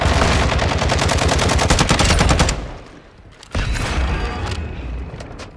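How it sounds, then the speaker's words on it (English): Loud, rapid automatic gunfire in the video game Call of Duty: Modern Warfare II, a continuous close burst that cuts off, then a brief lull before another sharp shot and scattered fainter rounds. "Shoot that guy, shoot that guy."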